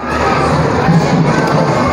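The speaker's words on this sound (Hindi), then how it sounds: "दोस्तों ये भीड़ देख रहे हैं आप," A dense crowd at Blue World water park in Kanpur, near the octopus ride, makes a steady roar of overlapping shouts and children's cheers, loud and continuous.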